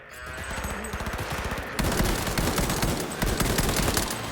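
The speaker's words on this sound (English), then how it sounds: "Wow, the recoil on this gun is like freaking crazy." Heavy-recoil automatic gunfire in Cyberpunk 2077 rattles in fast, evenly spaced rounds, then swells louder and denser midway as the shooting continues in close, sustained bursts.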